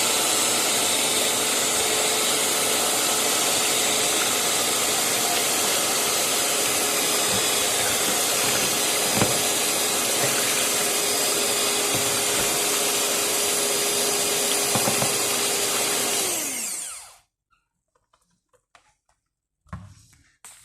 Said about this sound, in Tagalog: Kailangan po kasi blender